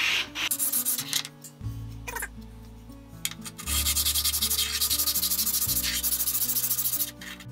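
A hand plane body is rubbed flat on sandpaper at a flattening station, giving repeated gritty back-and-forth strokes, close and fairly loud, that settle into a steady rhythm in the second half.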